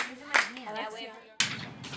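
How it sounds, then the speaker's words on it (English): Children clap their hands along to the song "If You're Happy and You Know It" in a classroom, two sharp claps cutting in between sung voices in a quiet room. "If you're happy and you know it, clap the hands."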